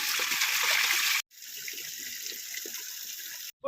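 Water runs steadily and close by as it is collected from a small hillside stream near Pillar Rock in Kodaikanal. The hiss cuts out briefly twice, as though the flow is interrupted.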